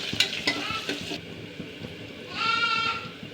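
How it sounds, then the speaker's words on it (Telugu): Green chillies and chopped onion frying in a pan, sharp sizzling crackles and stirring scrapes up close, with a louder burst of hiss near the end. "ఇప్పుడు పచ్చిమిర్చి ఆనియన్ వేసుకుందాం."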